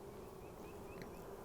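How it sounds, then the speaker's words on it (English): Honeybees crowded in a packed hive box give off a continuous faint, dense buzzing hum, steady throughout with a few individual bees briefly whining past close by. "these bees are packed. This box is packed."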